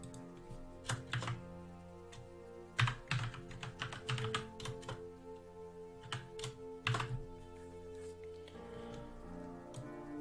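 Keys clatter on a computer keyboard in uneven bursts of rapid taps, close and fairly quiet, with short pauses between runs.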